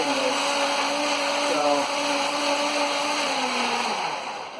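A blender whirs at high speed through kale and donuts, a loud steady motor whine whose pitch shifts slightly as the contents churn, close and continuous without talk.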